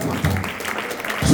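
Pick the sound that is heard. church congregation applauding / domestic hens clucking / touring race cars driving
church congregation applauding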